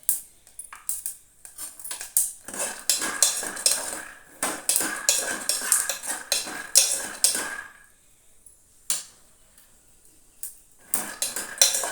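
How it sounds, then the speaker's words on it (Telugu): Dry peanuts roasting in a pan are stirred and tossed, giving bright, close scraping and rattling in dense bursts that stop around the middle and resume briefly near the end, with no talking. "పల్లీలు వేగిపోయినాయి, తీసేద్దాము."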